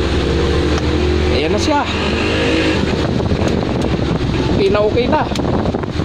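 A repaired Hanabishi electric fan runs at high speed, a steady loud whirring wash of air and motor noise throughout, with someone speaking briefly over it.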